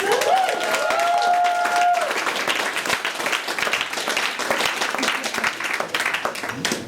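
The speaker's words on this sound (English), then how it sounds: "A round of applause." Audience at a live talent show applauds loudly and steadily, dense clapping filling the whole stretch, with a brief tonal whistle or cheer near the start.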